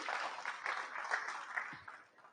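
An audience at a corporate career day event gives a round of applause, a short burst of dense clapping heard at moderate distance that begins to fade.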